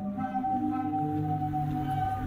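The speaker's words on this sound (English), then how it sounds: "Zadar has a strange thing called a sea organ that looks and sounds like this." Zadar sea organ on the Croatian coast, sea waves pushing air through its pipes to sound sustained, overlapping tonal notes that drift and swell continuously, fairly soft and steady throughout with no talking.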